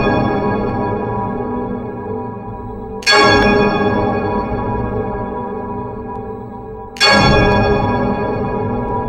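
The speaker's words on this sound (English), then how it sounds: "I think it's the camp bell." A camp bell rings twice with a few seconds between strikes, each loud bright clang ringing out with rich overtones and slowly decaying under a sustained metallic hum.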